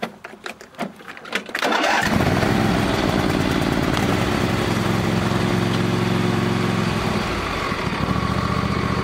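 A garden tractor with an automatic transmission cranks over briefly, then its engine catches and settles into a loud, steady idle close by.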